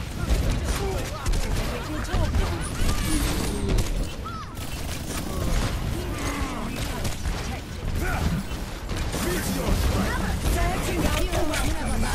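Rapid gunfire from a recoiling weapon in the video game Overwatch, dense and continuous through the whole stretch, with a player talking over it.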